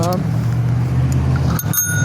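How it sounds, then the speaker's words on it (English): Bell on a Fuji 7-Series bicycle rung during an outdoor city ride, a couple of quick bright rings at the start and again near the end over steady road and traffic noise. "There's a bell."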